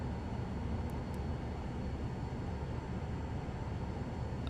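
Steady, loud broadband roar of airliner engines at takeoff thrust in Microsoft Flight Simulator 2024, a constant dense rumble with no breaks or voices.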